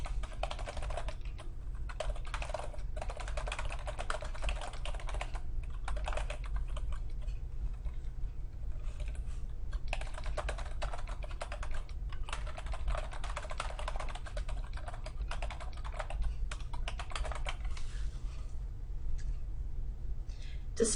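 Steady typing on a computer keyboard, close and continuous, with bursts of rapid key clicks broken by short pauses over a low background hum.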